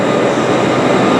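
An IET train passing close by at a railway line, a brief loud continuous rumble and wheel roar.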